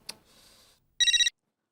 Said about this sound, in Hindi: उमाताई का फोन?